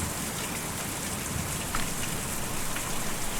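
Steady rain falls in the video game Kentucky Route Zero, a dense, even hiss of drops on a surface with faint scattered patters, continuous and close throughout.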